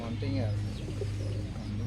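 Rajshahi Giribaj pigeons in a loft give low, steady cooing that runs throughout, close by, with people talking over it.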